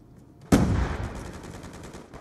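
A single sharp, loud M8 rifle shot in a video game, with the laser sight fitted, cracks out of near quiet and rings off into a long decaying tail.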